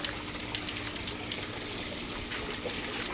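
Water pumped through a hydroponic growing pipe for bok choy, a steady, even trickling flow that runs without a break, close up and fairly quiet.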